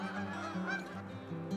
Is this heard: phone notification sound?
no